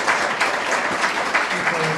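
An audience claps together in a steady, dense burst of applause that carries at an even level for its whole brief length, with some cheering voices mixed in.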